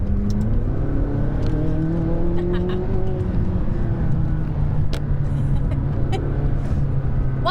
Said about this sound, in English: The one disappointing thing about McLarens is the noise.